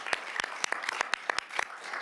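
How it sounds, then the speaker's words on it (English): Sparse clapping from a small group at a council committee meeting, in honour of parks services staff: a couple of seconds of scattered, fairly close individual claps with uneven rhythm. "So I just would like us to give our staff a round of applause for doing that."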